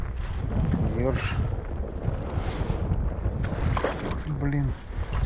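Wind gusting over open water beside a small fishing boat in rough weather, a steady broadband roar throughout with brief voices and faint tonal bits of talk over it.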